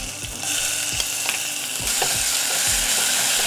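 Mint paste frying in a hot pan with garlic and curry leaves for mint rasam, a continuous loud sizzle with occasional scraping stirs, close up and with no talking.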